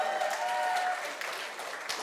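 An audience applauds in a brief, dense burst of clapping that fades slightly toward the end, with no talking over it.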